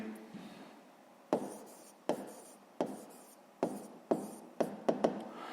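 Pen strokes on paper while working a sixth-grade math exercise, a series of about eight sharp, close taps and short scratches at uneven intervals in a quiet room.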